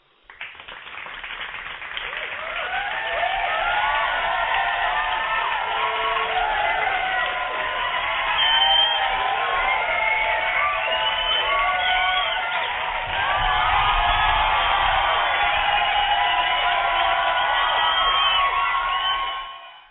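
A large crowd cheers, whoops and claps continuously in a dense, sustained wall of voices and applause, loud and close throughout.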